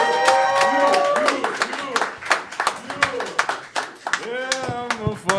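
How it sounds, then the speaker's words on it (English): An open mic comedy crowd claps for a comedian taking the stage, sharp close claps mixed with loud whoops and cheering voices rising and falling throughout. "Please help me welcome with a big round of applause"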